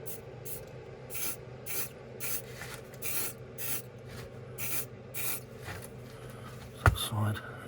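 Black spray paint hisses onto a Hornby Dublo three-rail Duchess of Atholl model locomotive in about a dozen short, evenly spaced bursts, followed by a sharp knock and a brief rustle.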